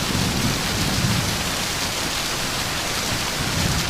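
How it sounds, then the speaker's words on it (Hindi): Heavy rain pours in a dense, steady hiss with a low rumbling of thunder rolling beneath it, loud and continuous throughout, with no voices. "ये बारिश रुकने का नाम ही नहीं ले रही"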